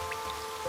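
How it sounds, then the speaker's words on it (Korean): Steady rainfall from the animated story Sand Land, a brief wash of falling drops across an arid land soaked by a sudden rain cloud, even and continuous with no voices. "거대한 구름은 메마른 대지를 적시는 비를 내려보냈고, 사람들은 평생 본 적 없던 빗방울을 온몸으로 느끼며"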